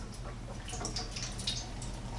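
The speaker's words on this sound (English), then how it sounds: "I'm going to take one cup of water, pour in the bottom of that pan here." A cup of water poured into the bottom of the pan of a Power Air Fryer Oven Elite, a soft, continuous splashing trickle with faint drips, quiet and close, with no talking.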